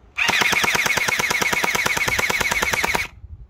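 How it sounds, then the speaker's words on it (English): Electric gel splatter ball blaster firing on full auto, a loud, rapid and even stream of about twenty-five sharp shots over nearly three seconds, close up and stopping abruptly, with no talk. "now it's like a machine gun. So you just hold it down"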